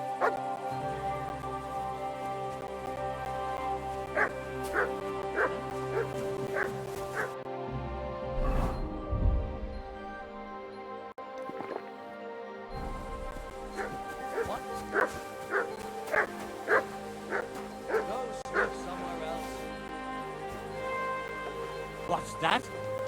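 A dog barks in repeated quick yips and bow-wows inside Kingdom Come: Deliverance II hardcore mode, close and steady across a tonal game soundtrack, with a brief pause in the middle.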